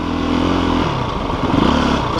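A Yamaha DT 50 or KTM EXC-F 250 enduro motorcycle engine revs loud and close, holding a steady buzzing drone that shifts pitch partway through as the throttle is turned.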